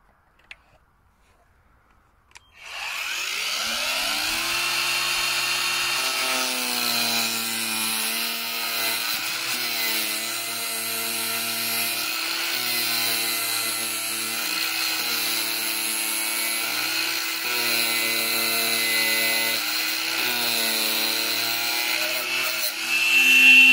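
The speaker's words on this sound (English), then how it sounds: "Okay, so I'm going to start the angle grinder now." An angle grinder spins up and cuts through PVC pipe held in a vise, a loud steady whine running continuously for about twenty seconds with slight pitch dips as the disc bites into the plastic.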